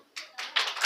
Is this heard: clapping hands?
yes